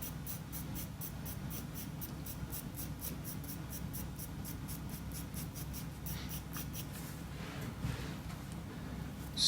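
Charcoal pencil strokes scratching steadily across paper for a dog drawing, a continuous close rubbing texture with rhythmic back-and-forth marks that vary slightly in direction, no voices.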